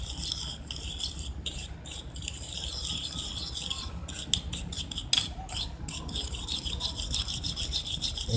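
Salt is stirred into a homemade chapped-lip remedy mixture, giving a steady, close scraping and rubbing of a utensil against a small container, continuing without pause and with no talk.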